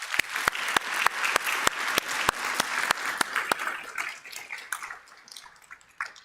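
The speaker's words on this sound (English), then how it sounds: "give them a round of applause" An audience claps in a conference hall, a dense round of applause that starts with sharp individual claps and thins out over several seconds as it fades.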